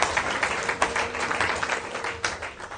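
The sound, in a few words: applause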